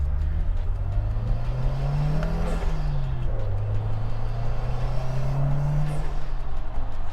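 A turbocharged car engine fitted with a GrimmSpeed aluminum turbo inlet and intake rumbles steadily and revs up and down in smooth waves, loud and close, with a faint whooshing whistle on top.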